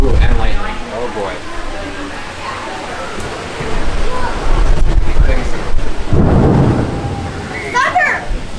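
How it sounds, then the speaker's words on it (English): Thunder rumbles loudly through a heavy rainstorm at Mount Vernon, Washington's historic home, with steady rain hiss underneath and a big low crack building near the end while people talk excitedly over it. "Thunder!"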